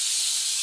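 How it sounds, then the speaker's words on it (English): A rattlesnake rattles its tail in a dense, continuous buzzing hiss, loud and close, with no voices. "I'm going to stop it from rattling."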